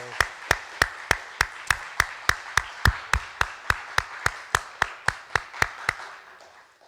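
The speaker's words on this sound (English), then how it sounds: "I think you deserve a very large round of applause." Rhythmic clapping at a conference gathering: about eighteen sharp, evenly spaced claps in a steady beat, fairly close and clear, stopping near the end and leaving a faint tail of room noise.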